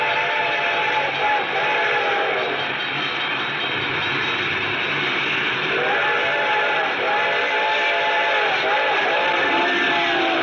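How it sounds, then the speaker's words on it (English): A train whistle cries out in long wailing tones over a steady roaring rumble of the locomotive, with a bell sounding beneath, loud and continuous as a radio-drama sound effect. "I could hear its bell ringing and the cry of its whistle."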